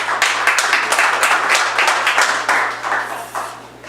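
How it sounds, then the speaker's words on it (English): An improv comedy audience applauds steadily, dense overlapping claps at an even level throughout, fairly loud and close. "Give them a big round of applause"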